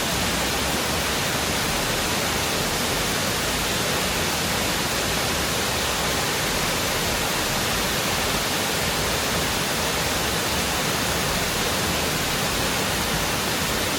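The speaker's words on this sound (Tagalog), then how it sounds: "Enjoy nyo na lang yung video guys ng Shifen Waterfall." Shifen Waterfall in Taiwan roars on a rainy day as a dense, steady wash of rushing water. It is loud and unbroken for the whole stretch, with no voices.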